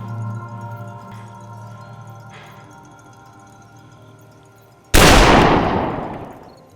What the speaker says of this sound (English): the marshal just shot himself